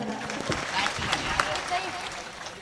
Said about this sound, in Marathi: टाळी वाजवा सर्वांनी.